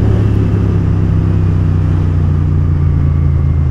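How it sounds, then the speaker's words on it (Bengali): Royal Enfield Continental GT 650cc motorcycle with its engine roaring under throttle, a loud, close, steady low rumble held for the whole stretch, with no voices. "থ্রটেল দিচ্ছি আর জিটি রোয়ারিং দিচ্ছে।"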